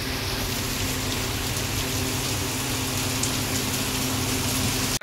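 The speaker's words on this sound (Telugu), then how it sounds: "వర్షం చూడండి వేరే లెవెల్ పడుతుంది" Heavy rain pours down outdoors in a steady, dense roar that stays loud and unbroken throughout, with no voices over it.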